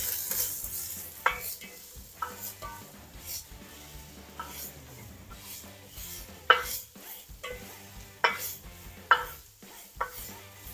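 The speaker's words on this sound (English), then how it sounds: "Put a little olive oil in there, and then all you want to do is saute them probably about 5 minutes." Vegetables for chicken soup sautéing in olive oil in a big pot over medium heat, a steady soft sizzle broken by occasional clinks and scrapes of a stirring utensil against the pot, no voices.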